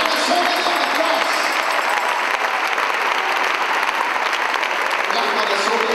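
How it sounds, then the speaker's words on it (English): A church congregation claps and applauds together, a dense steady wash of clapping that holds at full loudness from start to finish. "Clap for the soldiers on the cross."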